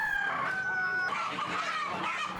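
Free-range village chickens at a market before Lebaran, clucking and crowing nearby in a steady, overlapping chorus, with a rooster's drawn-out call standing out.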